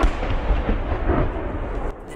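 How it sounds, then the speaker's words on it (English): A huge explosion goes off in the distance, a broad rumbling boom that rolls on for about two seconds and then drops away sharply. "Then you see this huge explosion in the distance"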